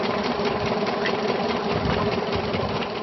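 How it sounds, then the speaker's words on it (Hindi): A diesel engine pump set irrigating a farm field in a village runs nonstop, a loud, close, rapid chugging drone with an even buzzing rhythm and no voices. "गांव में बच्चालाल के खेत में डीजल इंजन पंप सेट से सिंचाई हो रही है"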